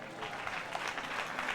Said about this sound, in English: How many of you clap your hands?